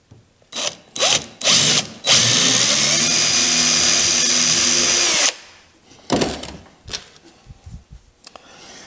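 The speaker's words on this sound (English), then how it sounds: "you got to drill this oak." A power drill whirs in short bursts into oak, then runs steadily for about three seconds, followed by a few more brief spins and clattering handling noises.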